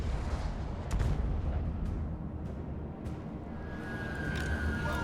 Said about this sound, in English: their mortars are going to open fire on me